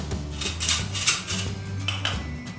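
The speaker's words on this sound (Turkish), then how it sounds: "Şimdi çırpıyorum." A whisk clatters against a bowl while beating banana cocoa cake batter, a brisk run of close metallic clinks and scrapes in an irregular rhythm.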